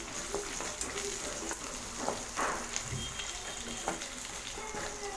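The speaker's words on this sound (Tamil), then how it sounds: "ஒரு கொத்து கருவேப்பிலை ஆட் பண்ணிக்கலாம்" A sprig of curry leaves fries with ginger in a pan for curd vermicelli, sending up a constant close sizzle with scattered pops and light stirring scrapes mixed in.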